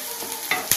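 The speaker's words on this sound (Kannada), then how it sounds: "ಸ್ವಲ್ಪ ಫ್ರೈ ಆಗಬೇಕಿದೆ, 1 ನಿಮಿಷ ಫ್ರೈ ಆದರೆ ಸಾಕು." Onions and curry leaves for a bitter gourd fry sizzle in a hot pan, with quick stirring scrapes over a steady frying hiss. The sound is brief and close.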